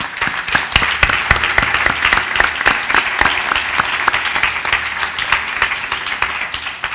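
Loud, close audience applause at a cultural programming talk, dense sharp claps in a sustained burst lasting several seconds with no speech.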